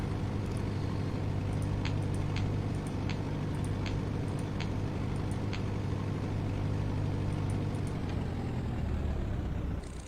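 An aircraft engine idles steadily before shutdown at DuPage Airport in the video game Pro Pilot '99, a continuous low mechanical hum with faint periodic clicks, even in level and alone.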